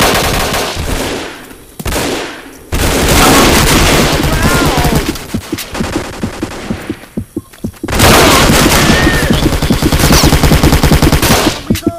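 AK-47 rifles firing in the Vietnam War shooter Vietcong: Fist Alpha, with loud sustained automatic bursts and rattling fire separated by short pauses, near and dominant, with a brief lull and scattered single shots in the middle.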